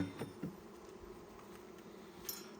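Honeybees buzz faintly around an open hive during an inspection, a soft continuous drone with a few closer passing buzzes near the start and end.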